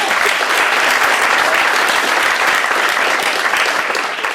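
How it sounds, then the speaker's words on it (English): Loud, dense audience applause at a talent show, continuous clapping from a packed room sustained for the full few seconds with no talk over it. "So, a round of applause for everybody again."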